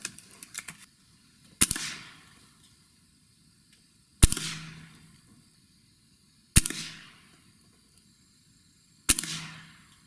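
A Gamo Gen3i air rifle firing pellets at a target, four sharp cracks spaced a couple of seconds apart, each with a brief metallic ring-off, close-up against a quiet background.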